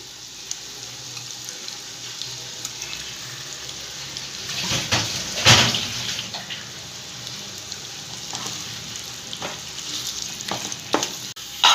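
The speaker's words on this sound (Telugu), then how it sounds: "ఇదే కడాయిలో నెయ్యి ఉంది కదండి, ఇందులోనే వేయించుకుందాం దగ్గర పడేంత వరకు" Moong dal batter frying in ghee in a kadai for barfi, a steady soft sizzle under repeated scraping strokes of a spoon stirring the thickening mixture, with louder clatters now and then.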